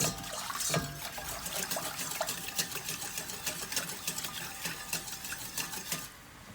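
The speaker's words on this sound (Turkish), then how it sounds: "Soğuk su ilave ediyoruz." Cold water pours into fried tomato paste in a pot while making soup, giving a steady liquid splashing and sizzling hiss with scattered clicks, fairly close and alone.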